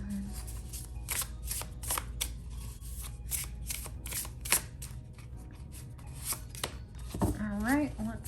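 Tarot cards shuffled by hand in a steady run of crisp riffling bursts, close and clear, with a short spoken voice near the end.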